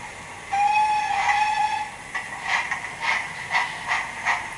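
A Hornby Franco Crosti 9F model steam locomotive with TTS sound gives a clear, sustained whistle, then settles into a steady run of rhythmic exhaust chuffs with hissing, all fairly close and alone.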